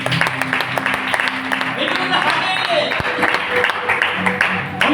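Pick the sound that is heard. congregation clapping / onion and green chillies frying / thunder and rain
congregation clapping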